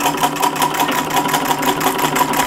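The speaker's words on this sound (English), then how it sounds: "I like quilting on a treadle." A treadle sewing machine stitching through fabric while quilting, a close, steady, rapid mechanical clatter with an even rhythm throughout.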